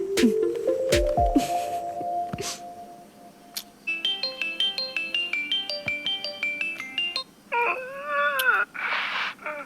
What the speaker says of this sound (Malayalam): അനുമോള് ഫോൺ എടുക്കുന്നില്ലടാ